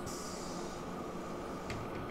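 A train runs in the railway-building game Train Fever, a continuous rolling rumble with faint hissy high end and a brief squeal-like burst late on, no talking.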